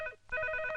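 Telephone ringing indoors, a steady electronic tone that breaks briefly and then resumes, moderately loud with no talk over it.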